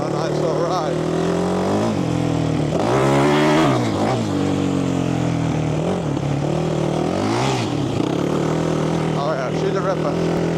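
A Yamaha YFZ 450 quad with an Electron carburetor, warmed up and broken in, runs steadily through a ride, its engine droning and surging in pitch as it revs and eases off, loud and continuous with rushing wind.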